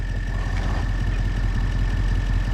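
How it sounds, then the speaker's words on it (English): A tractor engine idles in a trucks-and-tractors mod video game, a steady low rumbling drone with a faint constant tone on top, close and unchanging with no speech. "it's because the tractor's"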